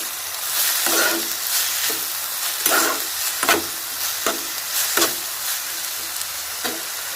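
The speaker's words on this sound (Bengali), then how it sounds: "আলুটা দিয়ে এইভাবে একটু নেড়ে ছেড়ে একটু রান্না করে নেব" Potatoes fry with onion and garlic in a pan, a steady close sizzle broken by repeated scraping stir strokes at an uneven rhythm, with no talk.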